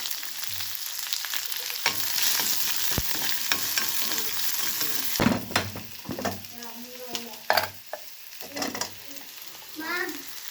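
Mustard seeds, urad dal, dried red chilli, curry leaves and chopped onion sizzle and spatter in hot oil in a home kitchen pan, with a loud burst of frying around the middle and stirring scrapes throughout.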